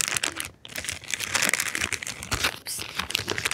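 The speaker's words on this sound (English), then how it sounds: "Why is it in a plastic bag?" A plastic bag handled up close, crinkling and rustling loudly in dense bursts with a brief pause, continuous handling noise with no voices over it.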